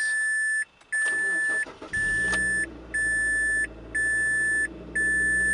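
A 2003 Mazda Protege ES cranks and fires up while a repeating electronic chime beeps steadily in short pulses, the engine settling into a low, steady hum underneath.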